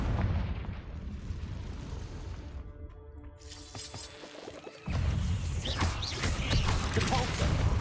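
In the video game Hogwarts Legacy, a Confringo fire spell bursts in a cave battle. The loud, dense rumbling blast cuts out briefly, then a second roaring explosive wash follows.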